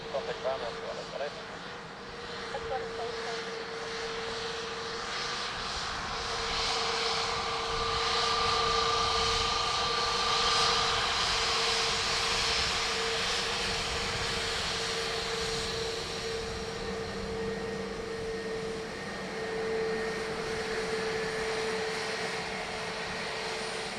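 Aer Lingus airliner arriving from Frankfurt at Dublin Airport, its engine roar rising and falling steadily with a tonal whine, heard from a distance beneath talk and radio chatter.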